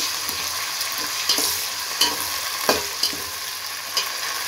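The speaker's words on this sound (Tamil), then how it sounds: "தக்காளி வதங்கணும்." Tomatoes sautéing in a pan for Sankara fish curry, with onions fried first, a steady close sizzle broken by regular scraping stirs of a spoon, with no talking.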